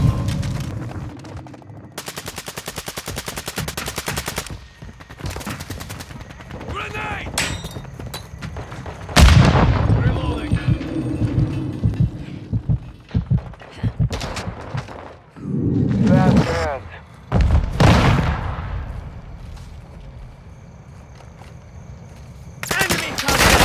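Automatic and single gunshots with heavy booms crackle through a Call of Duty Modern Warfare firefight, loud bursts arriving in clusters, with shouted voices mixed in among the shooting.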